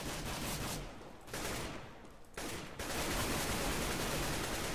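AK rifle gunfire in Counter-Strike: Global Offensive on the Aztec map: dense rapid bursts of shots, broken by two short pauses and then one long sustained spray, loud and close.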